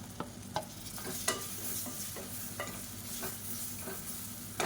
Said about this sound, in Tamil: இப்போ இந்த மசாலாவை எண்ணெயில் லேசாக வதக்கி விட்டுட்டு ரொம்ப கருக விட்டுறக்கூடாது.